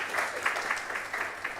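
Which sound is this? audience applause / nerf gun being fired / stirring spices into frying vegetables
audience applause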